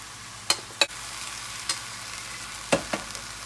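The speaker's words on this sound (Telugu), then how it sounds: "కలుపుతూ ఉండాలి, మాడకుండా కలుపుతూ ఉండాలి" Cooked cabbage being stirred into moong dal in a pan, a handful of sharp spoon scrapes and knocks at irregular intervals over a faint, steady background hiss.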